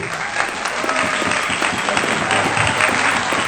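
Church congregation clapping steadily throughout, dense continuous applause filling the space with a faint voice or two mixed underneath.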